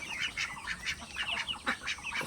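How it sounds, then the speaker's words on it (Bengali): Large Chinese ducks and common ducks quacking continuously at close range, a dense, overlapping chorus of nasal, rhythmic calls with no pause. "এইগুলো হচ্ছে বড় চীনা হাঁস আছে আপনার তিনটা আর পাতি হাঁসও আছে তিনটা"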